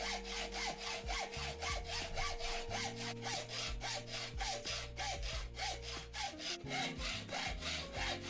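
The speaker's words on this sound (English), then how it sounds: "then I could cut off the excess part of the shaft with a hacksaw" A hacksaw cuts through a screwdriver's steel shaft clamped tight in a metalworking vise, with rhythmic, evenly paced back-and-forth strokes, close and loud, alone without talk.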